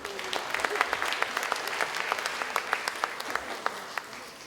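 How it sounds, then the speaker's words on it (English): Steady applause from a crowd at a cultural performance, many hands clapping at once with sharper individual claps standing out, sustained throughout at moderate volume. "Let us give a big round of applause to all the performers."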